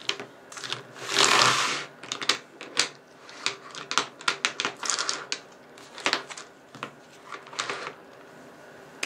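Rapid scratchy scribbling of colored pencils on paper, close and dry, coming in quick irregular bursts with brief pauses between strokes.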